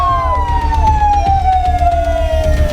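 Fire engine sirens wail at a rubbish-fire scene, a loud descending tone sweeping repeatedly with engine rumble beneath, sustained throughout with no pauses.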